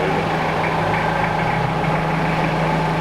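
Toyota Surf engine running on a dyno, a steady loud low drone with a constant hum and mechanical rumble, close and unbroken for the whole stretch.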